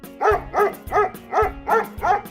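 Five evenly spaced woofs from a dog, each a short, clear bark with a steady rhythm and nothing else behind them.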